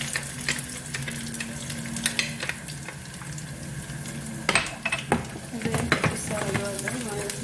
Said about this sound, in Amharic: ይሄ ነጭ ሽንኩርት ሽርምሪ የተከተፈ ወይም ደግሞ እንደዚህ በረጅሙ ስላይስ የተከተፈውን እጨምራለሁ።